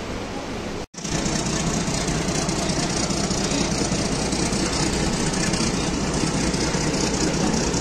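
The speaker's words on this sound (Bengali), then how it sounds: "ডিজেল লোকোমোটিভ এখন আর দেখাই যায় না, দেখে নিন।" Local train rolling out of Sealdah behind a diesel locomotive, a steady loud broadband rumble and rattle of engine and wheels, broken by a brief dropout near the start and then continuous with no voices.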